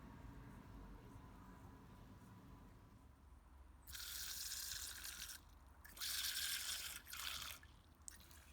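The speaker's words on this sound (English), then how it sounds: "I'm just gonna water them through really good now" Potted geranium cuttings are watered thoroughly. Water pours in several bursts of splashing after a quiet stretch with a low steady background hum.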